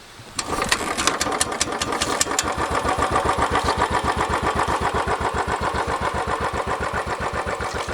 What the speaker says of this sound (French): je vais aussi vous montrer qu'elle démarre très bien avec le kick